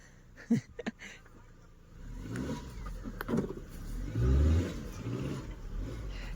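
Car engine revving as the vehicle climbs out of a pothole on a village road, a low growl swelling mid-clip after a few knocks, with people talking nearby.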